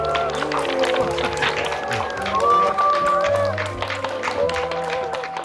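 A lecture audience bursts into sustained applause, dense clapping carrying on steadily over music playing underneath.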